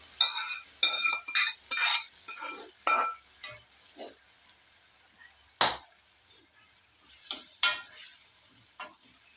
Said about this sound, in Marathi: चांगली आपण एकजीव करूया